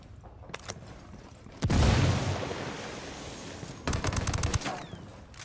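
A heavy grenade blast in a Ghost Recon battle bursts out loudly and rumbles into a long roar, followed by rapid bursts of automatic gunfire, with scattered shots before the explosion.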